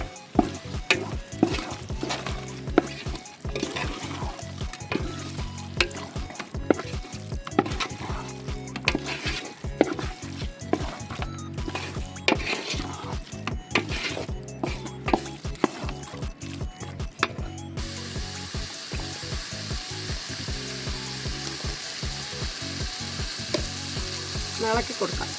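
Masala spice mix fries and gets stirred in a pan for jackfruit biriyani, with a steady sizzle and frequent scraping, clattering stir strokes running throughout before easing into a smoother, even hiss near the end.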